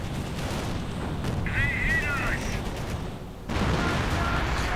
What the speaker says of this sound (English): artillery going against the Panther